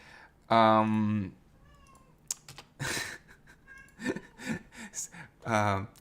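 A house cat meows loudly twice, a drawn-out harmonic call near the start and another at the end, with someone talking in between.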